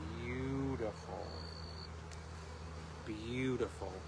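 Honey bees fill a springtime hive during a routine check, their steady, dense buzzing droning close by while a person's voice rises briefly over it at the start and again near the end.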